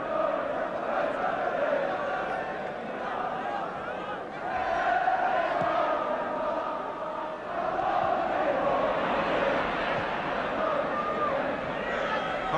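A packed football crowd at the Roker End of Sunderland's ground during a 1977-78 match against Tottenham gives off a steady, distant roar and murmur, with chanting swells running under a commentator's voice.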